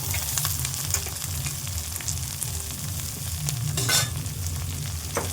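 Capsicum, beans and carrot fry in a pan with a steady sizzle, with occasional stirring scrapes rising over the constant crackle; no voices.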